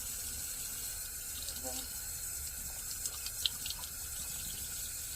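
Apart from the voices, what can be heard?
washing brass instrument slide with dish soap and water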